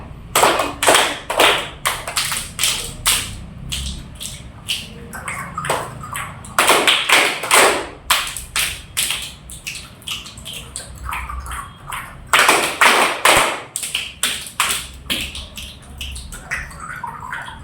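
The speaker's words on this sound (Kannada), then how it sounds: "ಚಪ್ಪಾಳೆ ಸ್ಟಾರ್ಟ್ ಮಾಡೋಣ ನೀಟಾಗಿ ಮಾಡೋಣ ಎಲ್ಲ ಲೀಕಲ್ಲಿ ಚಪ್ಪಾಳೆ 1 2 3 ಸ್ಟಾರ್ಟ್" Children clapping hands in a rhythmic clapping game, loud close claps in patterned groups and steady bursts with short pauses, repeating throughout.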